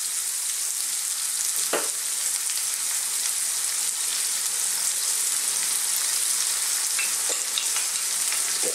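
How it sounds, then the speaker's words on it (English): Garlic ginger paste frying in a pan gives a dense, continuous hiss and crackle, close and even in loudness, with a couple of faint utensil knocks and no talking. "I'm now going to add that garlic ginger paste."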